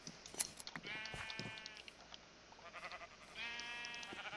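Sheep bleating in the Minecraft video game, two drawn-out wavering bleats a couple of seconds apart, fairly close and clear over light background game noise.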